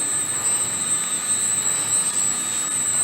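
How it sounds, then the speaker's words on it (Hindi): A diesel fire pump engine running steadily in a fire-fighting pump room, a loud continuous mechanical drone with a high whine, close by and unbroken throughout with no talk. "और ये डीजल पंप है, इसकी इंजन का ये पैनल है।"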